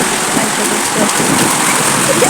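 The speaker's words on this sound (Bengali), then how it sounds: "এরকম ঝড় দেখুন বাহিরে অনেক তুফান ছুটছে" A fierce hailstorm with heavy rain and strong wind lashes the outside of a house, making a dense, steady roar of downpour that holds at an even, loud level throughout.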